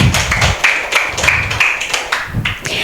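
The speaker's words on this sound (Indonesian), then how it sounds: "Berikan sekali lagi tepuk tangan untuk kita semua." A small group claps hands in a classroom microteaching session. The claps are loud, close and slightly uneven, with a few voices and some room noise mixed in.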